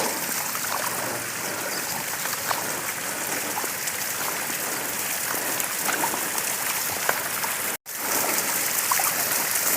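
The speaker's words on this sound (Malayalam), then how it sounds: "ഡാമിക്ക് പോകേണ്ട വെള്ളമാണ് വാട്ടർഫോൾസ്" At Malampuzha, water from a waterfall rushes down toward the dam in a steady, full roar with no talking, broken only by a split-second dropout near the end.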